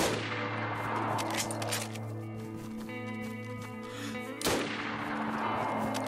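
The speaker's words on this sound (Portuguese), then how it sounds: "tô acertando os tiros de Mozin sem scope" Two sharp Mosin rifle shots in the video game DayZ, one at the start and another about four seconds later, each with a ringing tail over a steady hum of game sound.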